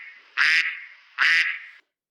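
Two loud, nasal duck quacks close by, evenly spaced, each lasting about a quarter second, followed by silence.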